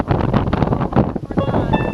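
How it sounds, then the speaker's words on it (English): Strong wind buffets the microphone on a Florida beach, a loud continuous roar with gusty surges throughout, with no voices. "Going against the wind."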